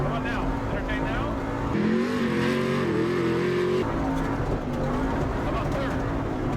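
Chevy Colorado rally truck engine revving hard and climbing through the gears, a loud continuous roar with pitch rising then dropping at a shift, heard from inside the cab.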